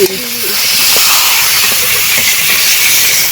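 Water is poured into a hot pan of river crab, producing a loud, steady hiss of steam that rises at once and continues throughout without talk.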